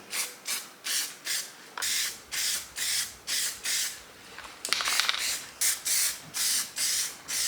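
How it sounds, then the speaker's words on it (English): Epoxy primer is sprayed onto a bare metal car panel on a 2010 Citroen Berlingo XTR in a series of short, close hissing bursts at an even rhythm, about a dozen passes with brief pauses between. "Let's get an epoxy primer and throw some on the bare metal."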